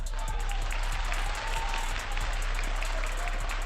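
Audience applause at a crowded Jamaican party gathering, a dense continuous patter of clapping filling the whole clip at steady loudness, with crowd noise mixed in.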